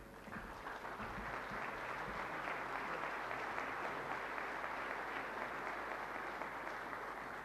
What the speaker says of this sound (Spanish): Y nosotros acompañamos este gesto con nuestro aplauso.